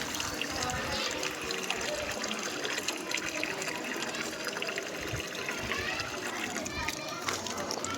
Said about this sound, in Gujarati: આમાં પાણી ભરી દે